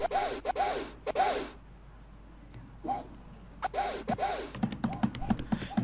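Loud, sharp clacks of computer keyboard keys during Attack on Titan 3D gameplay, in quick bursts and scattered single presses, with a pause in between.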